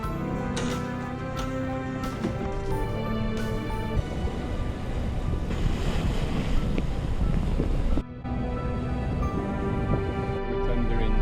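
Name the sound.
tender boat crossing the sea to Villefranche-sur-Mer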